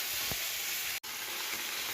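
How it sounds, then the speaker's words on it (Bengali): Amudi fish frying in a pan gives a steady, close hiss of oil and sizzle that runs continuously with a brief cut near the middle, no voices. "আমুদি মাছ এরকম কিছুটা ভাজা হয়ে গেছে"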